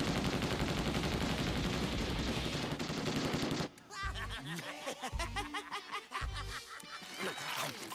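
Dense, sustained cartoon machine-gun fire during an animated attack, loud for several seconds, then giving way to chuckling, snickering voices and scattered thumps.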